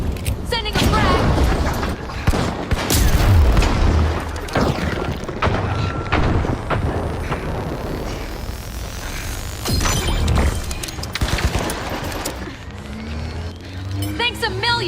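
A frag grenade explodes amid the dense, loud action of the video game The Finals, with heavy booms and crashes over continuous rumbling chaos and some voices.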